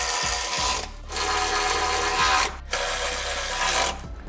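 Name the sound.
power tool tightening bolts on Toyota 4Runner rock slider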